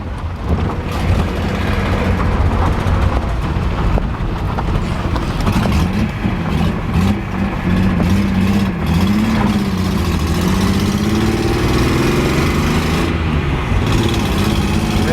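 A Datsun 240C four-speed car engine, misfiring on one cylinder, drones continuously while driving, a loud rough mid-pitched hum with shifting revs and wind-like road noise throughout.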